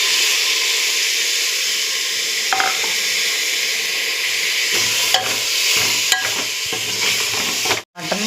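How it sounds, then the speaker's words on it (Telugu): Mutton sizzles loudly in a pan with ginger and turmeric for a Telangana-style curry, a constant frying hiss broken by occasional scraping stirs and clacks of the spoon near the end. "మటన్ని కొంచెం వేసి కొంచెం కలుపుకోవాలి వేగడానికి"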